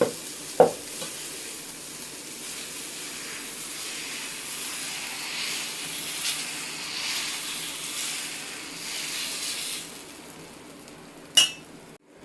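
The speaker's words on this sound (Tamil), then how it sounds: "இப்போ நம்ம தோசைக்கு ஊற்றிக்கலாம் ரொம்ப ஊற்ற வேணாம் ஒரு ஒன்றரை கரண்டி" Millet dosa batter ladled onto a hot pan, with a sharp clatter at the start, then a soft steady sizzle and hiss that fades, ending with another metallic clink of utensils.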